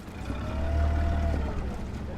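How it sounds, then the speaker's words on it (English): A school skiff motorboat crosses a cold harbor on the south side, its engine a steady low drone throughout, swelling slightly in the middle with a faint whine riding above. "the school has sent a skiff to the harbor on the south side to bring kids across"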